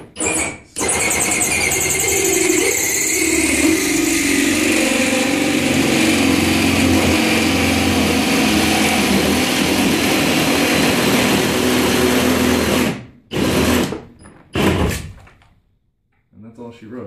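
A power drill cuts a hole for a recessed light through a ceiling, giving a loud, sustained whining grind that runs for over twelve seconds and then stops abruptly, followed by a few short bursts.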